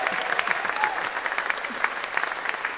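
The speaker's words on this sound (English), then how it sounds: "One more round of applause for the great Professor Cornel West." Sustained crowd applause from a large convention audience honoring Professor Cornel West, steady dense clapping throughout with a few brief cheers rising above it.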